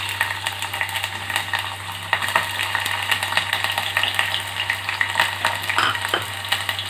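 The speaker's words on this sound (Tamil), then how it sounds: "ஒரு பெரிய வெங்காயம் சின்னதாக கட் பண்ணி வச்சுருக்கேன், கொஞ்சம் கருவேப்பிலை எண்ணெயில் சேர்த்துக்கலாம்" Chopped onion and curry leaves fry in hot oil for a Chettinad chicken gravy, a continuous dense sizzle with occasional stirring clatter over a steady low hum, close and without talk.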